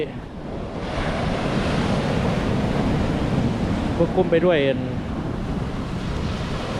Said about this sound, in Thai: นี่คือ ริมฝั่งมหาสมุทร อัติก